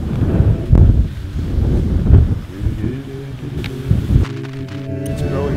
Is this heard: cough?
no